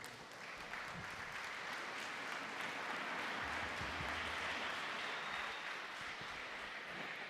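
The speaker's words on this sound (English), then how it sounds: "Can we have a huge round of applause for sir?" Audience applause after an architecture talk, a steady, dense wash of clapping from a crowd that fills the whole stretch at an even level, with no voices over it.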